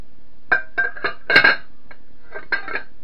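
A metal pot lid clatters and clinks onto a greased pan holding unkneaded bread dough, a short run of close, bright knocks and rattles with one louder cluster in the middle.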